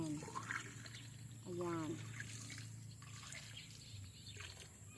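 Water trickles steadily into a container being filled at an outdoor water source, a soft continuous flow heard close by beneath a voice talking briefly.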